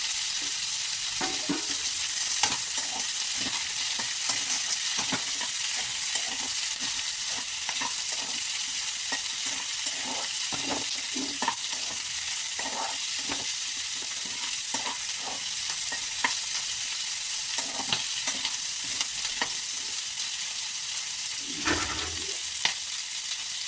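Chopped capsicum and green chilli fry in oil for chilli potato, giving a steady close sizzle throughout with frequent scraping and stirring clicks of a utensil against the pan.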